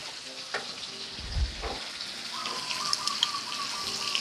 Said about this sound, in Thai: ผัดทุกอย่างให้เข้ากันดีค่ะ